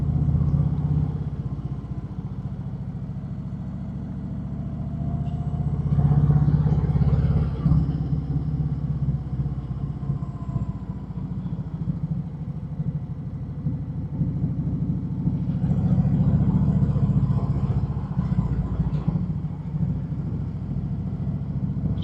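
Harley-Davidson Sport Glide motorcycle cruising in second gear through town, a steady mid-pitched engine rumble held throughout, swelling louder twice as the throttle opens, with no talk over it.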